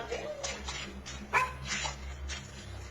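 Several dogs bark and yip in short bursts, a bit distant and muffled, over a steady low hum indoors.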